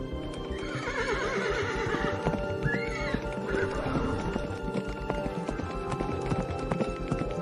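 Horse hooves clip-clop steadily for a story sound effect, overlaid by a loud whinny near the middle and a continuous music bed throughout, with no talk.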